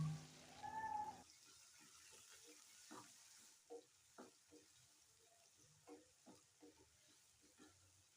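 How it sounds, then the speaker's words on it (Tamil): Quiet sizzling of onions and curry leaves sautéing in a pan with soft stirring and scraping clicks, faint and close, after a brief louder hiss at the start. "ரெண்டு பெரிய வெங்காயம் ஒரு கொத்து கருவேப்பிலை சேர்த்து வதக்கிக்கலாம்"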